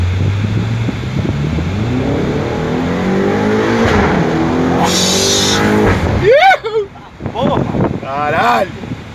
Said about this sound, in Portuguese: Ronco desse carro.